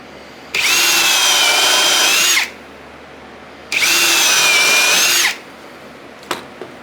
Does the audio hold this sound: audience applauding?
no